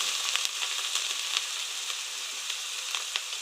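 Potato and pointed gourd curry with onion paste and salt sizzles steadily in a pan while being stirred, a constant close frying hiss with light scraping ticks.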